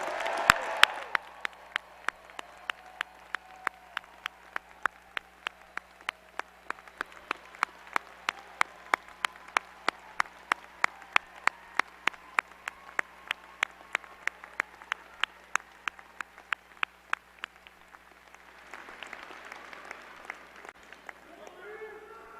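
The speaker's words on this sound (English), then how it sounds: "Can we give a rousing applause for everybody?" Faint, sparse applause at a university graduate commencement ceremony, heard as evenly spaced, distinct claps in a slow, steady rhythm over a quiet room, with a brief murmur at the start and a soft rustle near the end.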